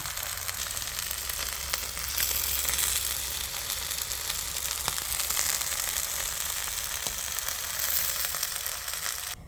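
A Korean seafood and green onion pancake frying in a pan over lowered heat gives off a steady, even sizzle with fine crackles, moderately loud and close, continuing unbroken with no voices.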